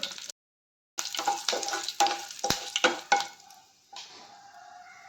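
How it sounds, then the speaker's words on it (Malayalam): Mustard seeds crackle and pop in hot oil as curry leaves and dried chillies hit the pan, a burst of loud sharp spitting and sizzling after a brief silence, tapering to a softer steady fry. "കടുക് പൊട്ടുമ്പോഴേക്കും കുറച്ച് കറിവേപ്പിലയും വറ്റൽമുളകും കൂടി ചേർത്ത് കൊടുത്തു"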